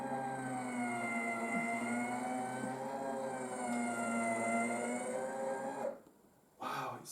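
A linear actuator slowly drives the electric window of an Austin A40 pickup, a steady whining motor hum with sustained tonal harmonics lasting several seconds before stopping abruptly.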